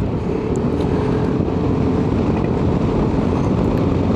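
Steady, heavy wind and road rumble heard from inside a Sena Phantom helmet while riding a motorcycle at about 70 km/h, constant and unbroken with no voice.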